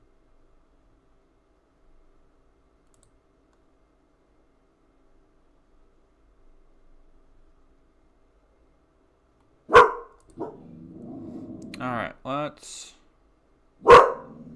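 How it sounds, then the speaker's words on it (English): A dog gives two sharp, loud barks several seconds apart after a long silence, with a person talking in between. "Dog, hey, woof."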